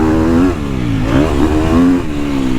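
A 2022.5 KTM 250SXF Factory Edition dirt bike races around a motocross track. Its loud, close four-stroke engine holds a strong high-pitched rev, dips briefly and climbs again through the mid-range.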